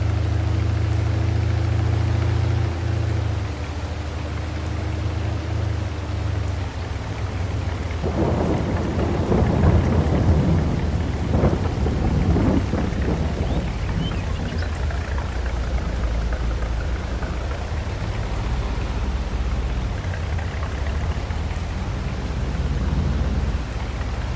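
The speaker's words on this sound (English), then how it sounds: "We've been getting a bit of rain." Rain pours steadily throughout in Farming Simulator 22, with a deep rumble of thunder rolling in midway and continuing low beneath the downpour.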